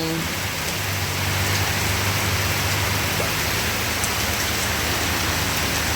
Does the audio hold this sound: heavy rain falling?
yes